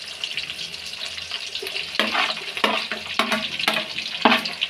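Onion and green chili frying in a pan for radish sambar, a steady close sizzle with several sharp scraping stirs and clatters breaking through at irregular intervals.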